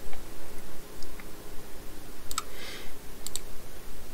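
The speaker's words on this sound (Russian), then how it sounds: "Кликаем на терминал, где курсор, и, например, нажимаем на колесико." A computer mouse clicks a few times, small sharp close clicks scattered over a faint background hiss.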